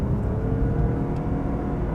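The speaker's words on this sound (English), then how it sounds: "what it definitely does that I like more is that little 3-cylinder note" A 2024 Lexus LBX three-cylinder engine hums steadily from inside the cabin, a low droning rumble at moderate loudness with no talking.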